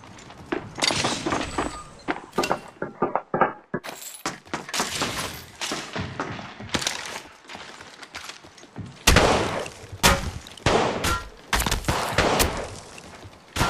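Rapid bursts of automatic gunfire in the mobile battle royale game Apex Legends Mobile, loud and close, clustered in dense volleys with short gaps, mixed with clattering footsteps and equipment rattles.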